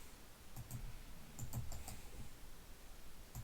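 Scattered, light keystrokes on a computer keyboard while setting up a Moodle site, in small irregular clusters against a quiet room hum, with no talking.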